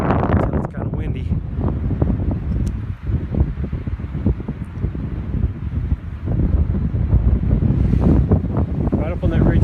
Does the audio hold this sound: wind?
yes